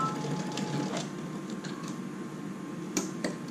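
A sewing machine stitches over a zipper on a fabric bag, making faint, close mechanical ticking and whirring with a few sharper clicks.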